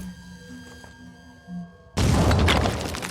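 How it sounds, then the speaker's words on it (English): A grenade explodes in the tactical game Phoenix Point: after a few quiet electronic tones, a sudden loud boom bursts out and trails off in a rough, crackling wash. "let's put your grenade right there"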